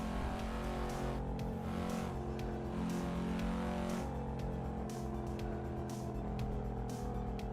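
A Cadillac's engine in a driving simulator game drones and revs steadily and loudly throughout, a continuous harmonic motor hum with subtle rises in pitch, no voices over it.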